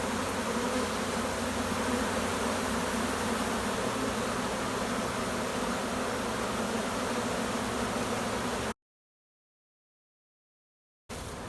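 A queenless honeybee colony hums and buzzes inside an open hive, a dense, steady drone that runs loud and unbroken, drops into a short silence, then resumes briefly.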